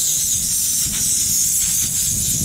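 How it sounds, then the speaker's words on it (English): Water sprays in a steady rushing hiss as something is rinsed off in a garden hydroponic setup, a close, continuous flow with no pauses. "I'm gonna rinse it off."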